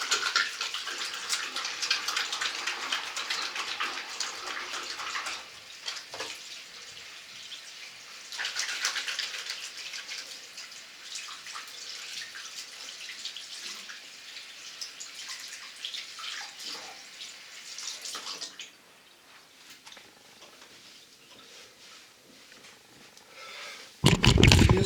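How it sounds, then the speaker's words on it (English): A tap runs steadily while hands are washed beneath it, a close, continuous splashing hiss that shifts as the hands move through the stream and then fades lower before a final louder burst. "I need to wash my hands because I'm eating this chips."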